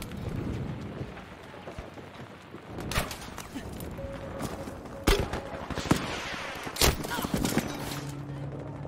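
Gunfire in the shooter game Battlefield V comes in sharp, loud bursts and scattered single shots over a busy battle background, with a faint voice at times.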